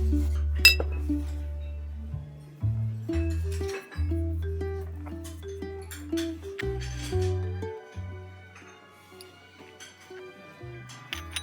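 Ceramic pottery lids from Arita clink against their vessels as they are tried for fit, giving a series of bright ringing taps, some resonant and sustained, close and fairly loud.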